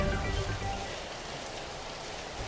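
Steady, unbroken rain falls during flooding in Laurel, Batangas, a dense even hiss with no talk over it.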